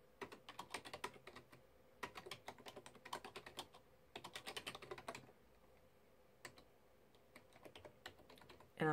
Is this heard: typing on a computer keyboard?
yes